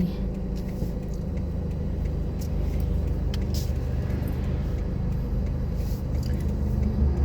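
A black car with no headlights rolls past on a dark Thai road, a steady low engine and tyre rumble that swells slightly as it goes by, with no talk over it.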